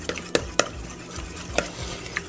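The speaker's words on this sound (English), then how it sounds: "Not really scrambling it, really this is beating" A ricotta bake mixture is beaten by hand with a spoon, giving a few sharp, close clinks and scrapes against the bowl at an irregular pace with quiet pauses between strokes.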